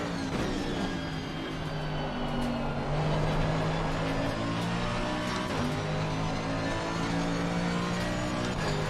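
A Porsche race car engine drones steadily through a racing video game, its tonal whine holding near-constant pitch with slight shifts as it runs close and loud for the full stretch, with no voices over it.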